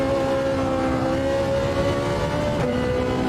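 A Ferrari 458 Italia GT3 racing in the video game HyPrix gives a steady, loud engine drone that holds a sustained tone with a brief gear-shift dip near the end, continuous throughout.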